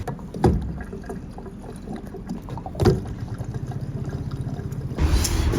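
Liquid fuel additive glugs and gurgles as it is poured into a Land Rover's fuel tank, a steady rhythmic bubbling up close, with a few knocks and clunks around it.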